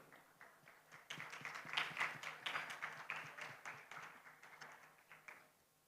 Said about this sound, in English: please kindly give the big applause, Dinya Hernanda.